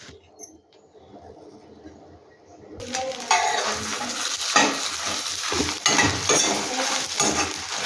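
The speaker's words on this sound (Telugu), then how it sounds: "కొంచెం లైట్గా ఆయిల్ వేసి ఎండుమిర్చి చేయాలి." Dried red chillies frying in a little oil for chinthaku kara podi, a broad crackling sizzle that starts abruptly after a quiet opening and carries on steadily with clinks and stirring.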